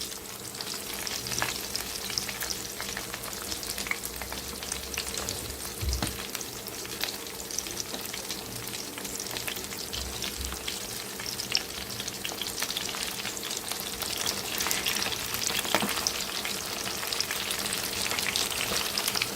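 Fish frying in a pan of splattering oil, giving a constant close crackle and hiss with dense pops and spits that stay even throughout, with no talking.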